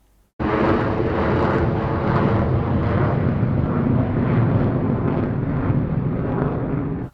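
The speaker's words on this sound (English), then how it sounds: "And now to compare it with the second aeroplane." A second, louder aeroplane passes in a binaural recording made with an artificial head, its broad engine roar starting abruptly and holding strong and steady for about seven seconds before stopping.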